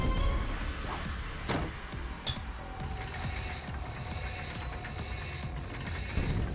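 Ratcheting, clicking mechanism of a bolt crank being turned in Ratchet & Clank, a steady run of close mechanical clicks over game ambience.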